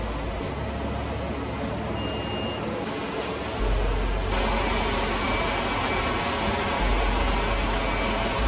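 Engines of a C-17 military transport aircraft roar steadily in a broad, continuous drone with a deep rumble that swells louder midway, loud and sustained with no voices.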